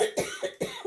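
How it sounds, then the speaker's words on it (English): A short run of three quick, dry coughs close to the listener, each a sharp burst. "excuse me while I cough one more time."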